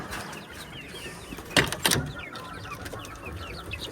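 Crested desi chickens and a crested rooster kept in a confined farm cluck softly nearby, with a couple of sharper, louder calls standing out midway.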